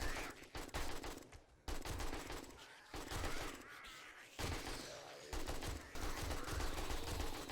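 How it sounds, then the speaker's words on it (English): AK rifle fire rips out in a video game while zombies are shredded, bursts of automatic shots cracking repeatedly in short volleys over the game's ambient noise. "I'm just using an AK and I'm still absolutely shredding them"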